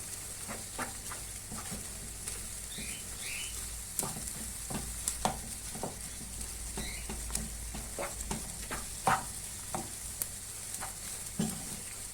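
Tomato and pepper paste frying in a pan for a casserole finger kebab, giving a steady close sizzle broken by light scattered taps and scrapes of stirring.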